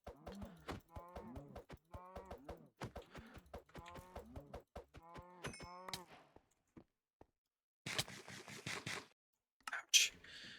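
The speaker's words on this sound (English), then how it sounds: "Look, a cow." A cow in the game Starbloom gives a run of rhythmic, harmonic lowing calls that stop partway through, followed by a few sparse clicks and short bright bursts of sound.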